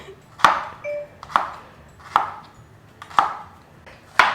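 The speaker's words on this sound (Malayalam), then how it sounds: "നമ്മള് കുറച്ച് ചെറിയ ഉള്ളി എടുത്ത് വെച്ചിട്ടുണ്ട്. അത് റൗണ്ട് ആയിട്ട് കട്ട് ചെയ്യണം കേട്ടോ" Sharp knife strokes through small onions on a cutting board, slicing thin rounds: five distinct, evenly spaced chops, close and clear with a brief ring after each.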